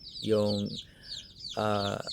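Two short bursts of hen clucking with faint high peeping from chicks in between, close by and otherwise quiet.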